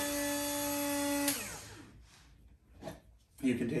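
Dremel rotary tool grinding, a high steady whine that spins down after about a second, followed by brief bursts of nearby talk.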